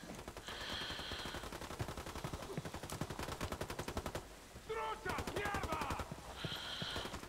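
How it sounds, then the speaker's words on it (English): Rapid bursts of automatic gunfire crackle in a dense, steady rhythm during a firefight in the video game Ghost Recon Wildlands, with brief pauses and voices calling out between volleys. "What are they shooting at?"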